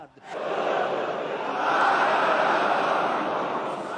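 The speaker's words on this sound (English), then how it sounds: "Death to America, responded the crowd" Large crowd at Friday prayers in Tehran chanting in unison, a loud, dense roar of many voices sustained for several seconds.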